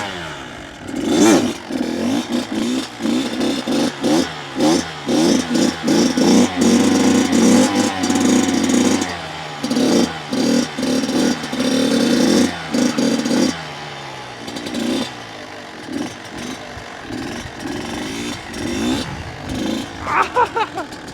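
A Kawasaki KX85 dirt bike engine revving hard during a straight wheelie. Loud, buzzy two-stroke bursts rise and drop in repeated throttle blips, then the engine settles into a longer, steadier pull before fading.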